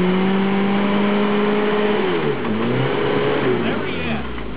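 Suzuki Samurai engine revving on an off-road trail, loud and close, the pitch rising and wavering as it pulls away and then dropping to a low growl.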